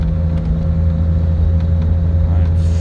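A 1956 Ford Anglia 100E cruises in second gear on a first test drive, its engine a loud, steady low drone with a constant hum from inside the cabin.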